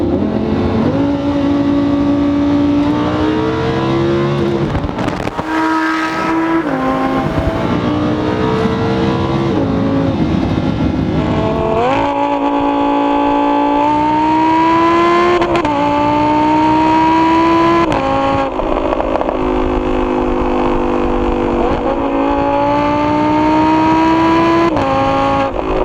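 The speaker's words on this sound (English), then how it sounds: "Oh, there goes Aventador." A Lamborghini Aventador drives past, its V12 engine revving hard through repeated upshifts, each rising howl dropping then climbing again, loud and close, with tire and road noise beneath and no talking.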